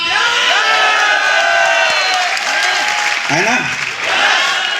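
A large political rally crowd cheers, whoops and applauds loudly and steadily throughout, with a dense roar of many voices and a speaker's brief word over it.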